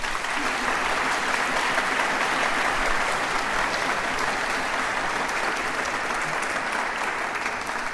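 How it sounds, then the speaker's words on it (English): Dense, sustained applause from a concert audience at a singing competition finals concert, steady and loud throughout with many hands clapping at once. "Please give them a round of applause"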